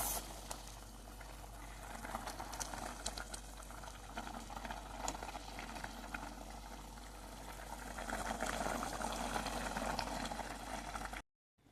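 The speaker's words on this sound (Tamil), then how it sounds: "கொதிச்சிட்ருக்கு இன்னும்" Mint chicken curry boiling in a pot, a steady close bubbling and gurgling that runs evenly for about eleven seconds and grows slightly louder toward the end, with no talk.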